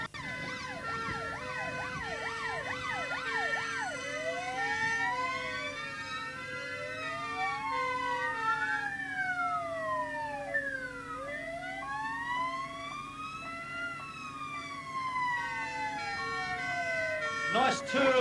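Several police car sirens wail continuously with rising and falling sweeps as the cars lap a classic car show arena, loud and overlapping for the whole stretch.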